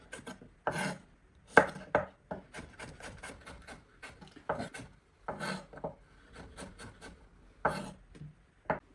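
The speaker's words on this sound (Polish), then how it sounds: "Rzodkiewkę kroję na pół i w takie, o, takie kształty." A knife cuts radishes into half-moons on a cutting board, giving irregular close thuds and scraping strokes in short bursts with brief pauses, no voices over it.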